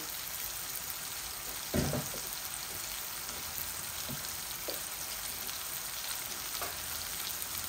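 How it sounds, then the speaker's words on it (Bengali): Three marinated chicken thigh pieces fry in a pan, a steady soft sizzle with a few sharp clatters from stirring. "শুধু ভুনবো এটাকে"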